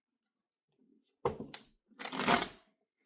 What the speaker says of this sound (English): that could be terrible shuffling on my part